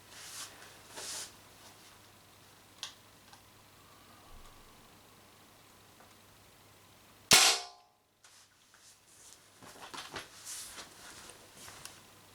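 A Tippmann Stormer paintball marker running on 12 gram CO2 fires a single sharp, loud shot near the middle, with faint rustling before and after.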